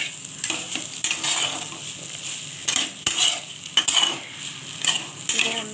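Fish roe bhujia fries in a pan with a constant bright sizzle, broken by repeated scraping stirs and clinks of a spatula against the metal.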